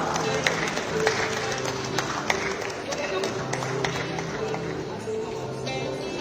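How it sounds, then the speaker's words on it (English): An audience at a capital markets award ceremony claps as winners walk up, steady dense applause with sharp individual claps, under a speaker's amplified voice. "Let's keep clapping as they come through."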